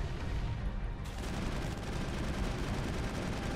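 Rapid gunfire crackles in dense, continuous bursts, like automatic weapons firing nonstop, loud and close with no pauses, in the PC game Mass Effect.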